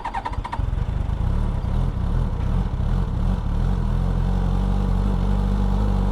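A brand-new 2022 Suzuki GSX-S1000GT motorcycle engine restarts and settles into a steady, loud, close idle as it warms up, a deep continuous rumble with no talking.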